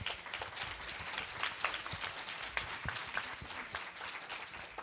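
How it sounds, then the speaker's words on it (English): Sustained applause from a crowd, dense steady clapping filling the space with no voices over it. "Please, a round of applause for all of our panelists."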